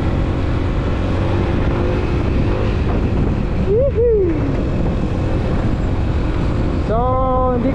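Strong wind ahead of a typhoon roars and buffets against the microphone in a loud, continuous rush, with a brief whine of a passing vehicle or motor partway through.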